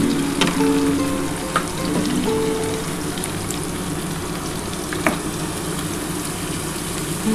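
Marinated mutton fries with tomato and onion in a pan, giving a steady, close, rain-like sizzle with a few scattered clicks and stirring knocks throughout.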